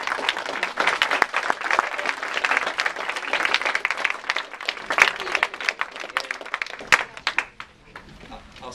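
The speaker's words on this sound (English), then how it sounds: "if the rest of us can give them a round of applause." A room full of people applauds mentors at a youth program showcase, dense steady clapping for several seconds that thins out and fades near the end.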